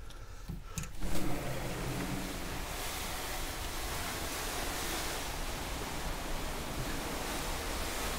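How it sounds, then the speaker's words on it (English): Pacific Ocean waves heard at night from a cruise ship balcony on NCL Pride of America, sailing toward Hilo, Hawaii. A continuous broadband rush of surf and wind follows a brief knock at the start. "listen to the nice Pacific Ocean as we sail on to Hilo, Hawaii"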